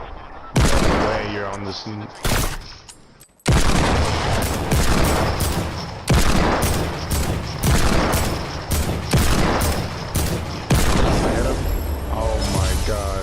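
Rapid bursts of gunfire from a Fortnite weapon on console, loud and close, crackling in repeated volleys with short pauses, while a player talks excitedly over the shots.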